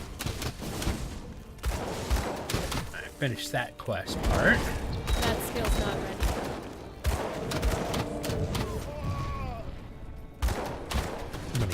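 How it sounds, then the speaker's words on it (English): Repeated dynamite blasts and thuds during Grim Dawn combat, bursting irregularly among other game effects while someone talks over them throughout. "Gotta watch those explosions. The dynamite they're throwing, it actually does hurt."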